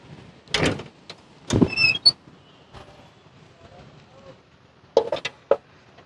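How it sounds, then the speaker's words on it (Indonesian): The engine hood of a 1995 Toyota Kijang KF 52 is opened, giving a few sharp metallic clunks and short creaks, close and separated by quiet gaps, with some faint speech. "kita buka kap mesinnya"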